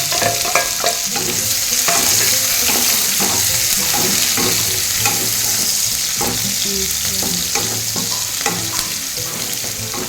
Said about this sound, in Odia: ଦେଖ ଆମର ଜିରା ଫୁଟିଗଲାଣି, ପିଆଜ କଟା ହେଇକି ରଖା ହେଇଥିଲା, ପିଆଜଟା ପକେଇଦେବା।